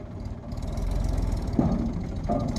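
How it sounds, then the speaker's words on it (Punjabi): A tractor engine runs steadily at close range during a wheat harvest at night, a low rumbling drone with a couple of brief mid-pitched squeals rising over it, with no talk. "ਆ ਟਰੈਕਟਰ ਸਿੱਧਾ ਕਰੋ"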